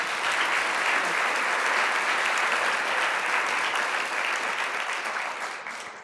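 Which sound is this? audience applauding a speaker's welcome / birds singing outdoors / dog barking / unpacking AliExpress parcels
audience applauding a speaker's welcome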